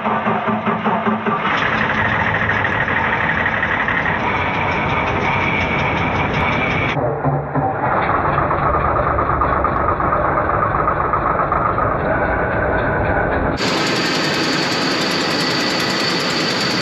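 A Ford 5.4 Triton truck engine with a new engine fitted turns over and settles into a loud, steady idle, with shifts in pitch and tone as it keeps running.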